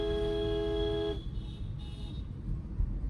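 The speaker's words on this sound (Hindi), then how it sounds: "engine he long horn बजाइए continue" A steady car horn blares continuously for about a second on a highway, then cuts off, leaving engine rumble and road noise.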